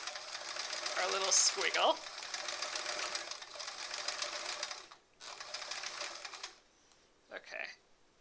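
A sewing machine runs steadily for about six seconds, free-motion quilting quilt-as-you-go sampler blocks, its busy whirring close and continuous before dropping away, with a woman's brief spoken remark over it.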